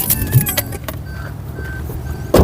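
A Maruti car with a K15 Dual Jet engine runs at a quiet idle, then shuts off, leaving a low fading hum, a few faint clicks and a sharp knock at the end.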